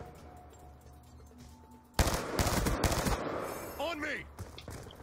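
Gunfire in a Call of Duty: Black Ops 2 team deathmatch: after a quiet stretch, a sudden loud burst of rapid automatic shots erupts close by, followed by trailing fire and brief in-game voice sounds.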